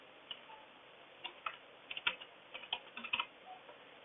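Keys on a computer keyboard tap out a mobile number in a registration form, faint, close clicks arriving singly and in small irregular clusters, with no voices.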